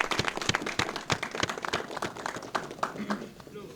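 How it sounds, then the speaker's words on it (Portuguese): An audience at a church assembly breaks into brisk, dense applause, many overlapping claps rattling steadily near and loud for several seconds before thinning slightly toward the end. "Salva de palmas!"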